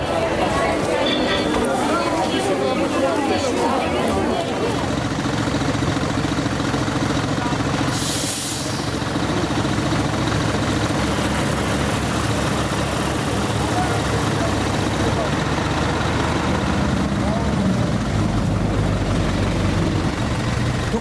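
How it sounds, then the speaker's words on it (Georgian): Loud continuous traffic rumble with engines idling and passing, a dense low roar that never lets up, while a person talks over it. "ხმაურის სახიფათო მაჩვენებელი ფიქსირდება მეტროს მიმდებარე ტერიტორიაზე"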